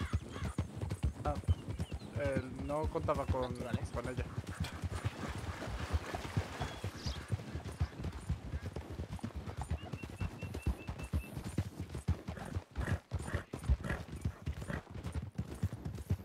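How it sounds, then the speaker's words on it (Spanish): Horses in a ranch role-play video game clip-clop steadily with rapid hoof beats, and a brief whinny rises early on, while a person speaks briefly over the game sounds. "dos caballos intentando procrear"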